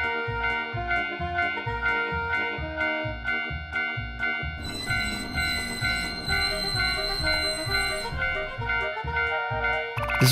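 A toy railroad crossing signal rings a rapid, steady electronic bell that repeats throughout. Partway through, a busier layer of chiming tones joins in and plays over the bell for several seconds.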